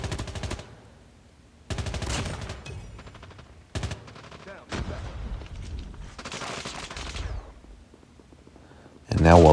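Gunfire in the mobile shooter game Call of Duty Mobile: repeated bursts of rapid automatic shots in separate clusters, with short gaps between them and a louder blast at the end, heard alone and close.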